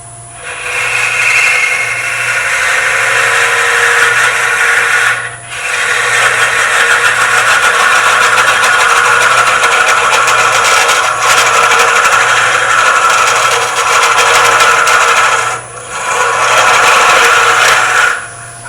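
A wood lathe hollows a brown ebony miniature, making a loud, continuous scraping hiss of the tool cutting the spinning wood, close up, broken by a few brief pauses where the tool lifts off, with the lathe's low hum underneath and no talking.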